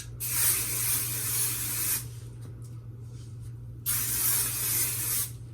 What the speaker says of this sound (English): Okay, now I like to spray the crap out of my hair so that it's well saturated in hairspray.